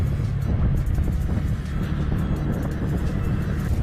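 A TVS NTorq scooter riding uphill on a village road, a steady loud engine drone with wind rush, heard close from the rider's position, no talk.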